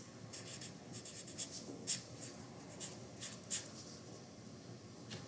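Pen or pencil writing a single word on paper, a soft continuous scratch with a few sharper strokes, close and quiet with no talking.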